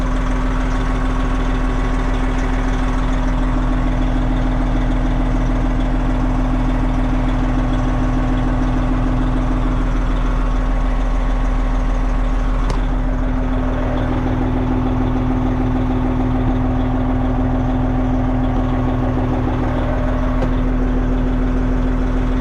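A Freightliner Classic XL truck engine idles with a deep steady rumble and hum, and partway through the clutch fan engages, adding a louder rushing whoosh over the running engine; no talking.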